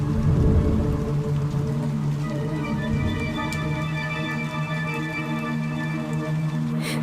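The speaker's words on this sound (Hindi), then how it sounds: "तभी बहुत तेज बारिश और तूफान आया।" Cartoon heavy rainstorm, a dense, steady patter of rain with soft rumbling underneath and a tonal musical drone layered over it, continuous throughout.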